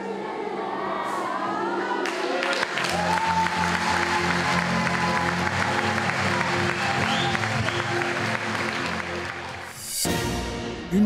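Audience applause closing a choir concert evening: dense, sustained clapping from a large crowd in a hall, steady and loud for about ten seconds before fading, with no voices over it.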